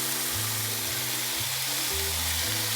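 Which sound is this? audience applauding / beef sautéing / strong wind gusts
beef sautéing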